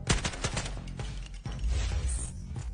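Rapid gunfire in the Delta Force video game, rounds striking armor in a dense, continuous burst of sharp cracks and metallic clatter, loud and close with no talking.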